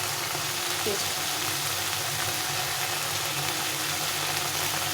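Masala with garlic paste frying in oil for an egg curry, giving a steady, even sizzle that runs close and continuous with no pauses.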